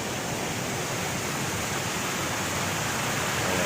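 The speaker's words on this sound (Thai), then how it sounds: "นี่คือบรรยากาศของน้ำตกตาดกวางสี" Tat Kuang Si waterfall in Luang Prabang, Laos, pours in a steady, broad rushing roar, close and continuous with no breaks.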